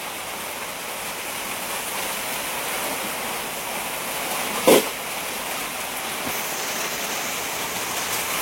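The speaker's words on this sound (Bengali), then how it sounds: "কেমন বৃষ্টি হচ্ছে দেখো।" Heavy rain pours in a dense, even roar, with one brief louder knock partway through.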